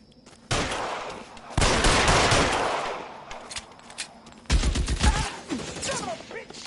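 Bursts of rapid gunfire erupt in a PS4 shooter game, loud and close, in several separate volleys with short gaps between them.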